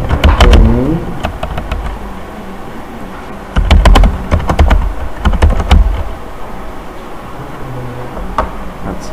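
Computer keyboard tapped while typing text into an MS Word document, with close, sharp clicks arriving in uneven bursts and pauses. A voice speaks briefly at the start.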